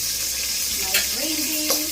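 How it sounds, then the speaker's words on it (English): Jamaican stew chicken sautés in a pot with a steady close sizzle and a light stirring scrape, heard alone without talk. "I'm going to put it back in the pot to saute it."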